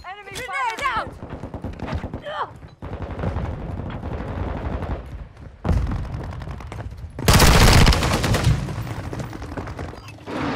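Rapid bursts of automatic gunfire in Modern Warfare II crackle in loud, close volleys, broken by short pauses and heavier blasts, with voices calling out over the shooting.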